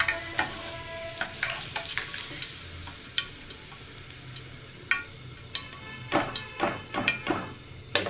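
Chicken garelu, a Telugu-style fried fritter, sizzling and crackling in hot oil with a steady background hiss and clusters of sharp pops, several bursts bunching together toward the end.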